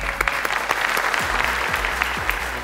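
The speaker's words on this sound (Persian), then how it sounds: "من تشویق کنین." Studio audience applause on a Persian-language Family Feud style game show: a steady burst of clapping from many hands, fairly loud and close, sustained alone without talk over it.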